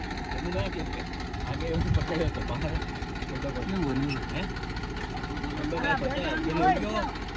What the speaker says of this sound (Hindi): ये भी दूसरा ट्रैक्टर आया है निकालने के लिए।